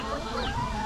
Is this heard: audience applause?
no